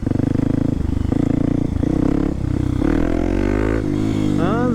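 A Kawasaki supermoto motorcycle pulls away in first gear, its engine note rising loud and close as it accelerates, with choppy, pulsing exhaust throughout.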